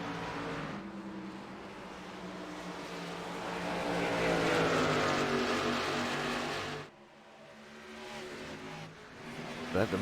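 Race cars in a sim racing game at ISM Raceway roar past in a close pack, their engines droning loud and steady, then briefly dropping before rising again as a commentator talks over the action.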